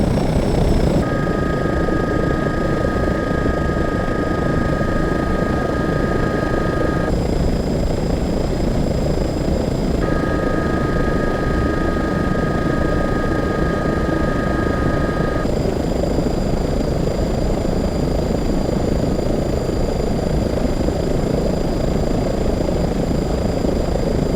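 An EC135 helicopter in Microsoft Flight Simulator gives a continuous loud rotor and turbine drone, with steady whining tones that switch on and off at intervals and no voices.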